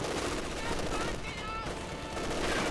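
A Maxim machine gun fires sustained bursts in the strategy game Company of Heroes 2, a dense rattle of gunfire mixed with other battle noise, with a commentator talking over it.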